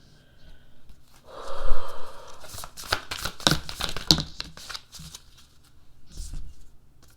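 Astrology cards are shuffled and drawn for a tarot-style reading, giving a run of close, crisp riffling and flicking bursts, with a softer papery rustle before them and a brief rustle near the end.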